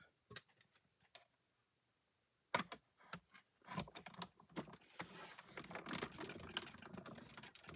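An intricate die is fed through a die-cutting machine: a few sharp clicks, a pause, then a steady, dense mechanical grinding and rolling that builds and continues close by.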